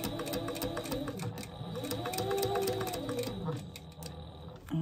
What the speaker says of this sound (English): So I'm going to stitch this across again.